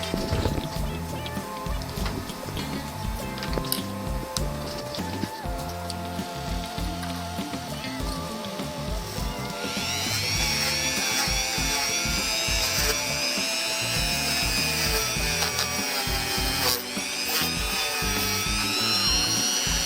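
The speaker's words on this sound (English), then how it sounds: "rust off these tabs on the reverser. Use my Dremel." A Dremel rotary tool grinds rust off the reverser tabs of a rusty electric motor, a steady high whine that climbs in pitch and gets more abrasive partway through, close and continuous with no talking.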